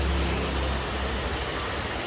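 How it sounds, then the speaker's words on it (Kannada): Steady hiss of rain falling close by, an even wash of patter with a faint low rumble underneath. "ಮಳೆ ಸ್ಟಾರ್ಟ್ ಆಯಿತು"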